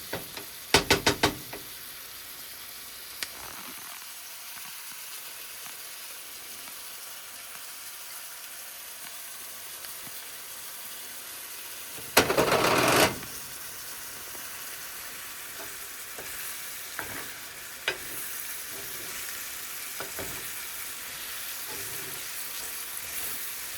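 Onions and seasoning sauté in a pan for homemade French onion dip, a steady close sizzle broken by occasional clicks, knocks and stirring scrapes, with a louder burst of frying partway through and no talking.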